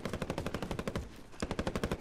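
Rapid bursts of automatic gunfire from a helicopter in Call of Duty: Modern Warfare crackle in a steady rhythm, briefly pausing before resuming, with a distant, game-like quality and no talking.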